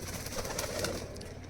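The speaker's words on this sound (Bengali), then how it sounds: "প্রচুর পায়রা তোমরা নিজের চোখে দেখতে পাচ্ছ কালদুমা কালেকশান" Kalduma pigeons in a loft give soft, low cooing calls that overlap in a steady murmur, close by and fairly quiet, with no talking.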